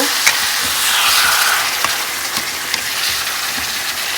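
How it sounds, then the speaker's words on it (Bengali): Soya chaap masala sizzling and frying steadily in a pan with water added, a continuous hissing fry with occasional stirring clinks, close and fairly loud with no talk. "এবার এর মধ্যে দিয়ে দেবো সামান্য জল আরও জল দেব"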